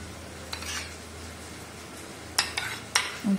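Tomatoes sautéing in a pan for a Tamil mushroom gravy (kaalan kuzhambu), with a low steady sizzle under a few sharp spoon-against-pan scrapes and clinks toward the end, close and moderately quiet.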